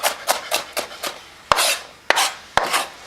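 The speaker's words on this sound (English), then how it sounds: "So, chop, chop, chop, chop, chop." A knife chops garlic on a board for a breakfast burrito, a run of sharp, close chopping strikes, quicker at first and then spaced out, with no one talking.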